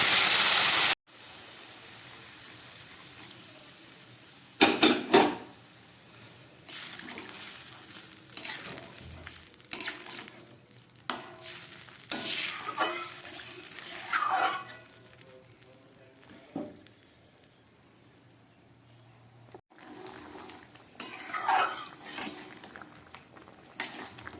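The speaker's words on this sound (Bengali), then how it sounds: "মাছের ঝোলটা একদম ফুটে উঠেছে।" A pan of fish curry broth boils on the stove with soft bubbling and sizzling, broken by intermittent clinks and stirring knocks, faint and close.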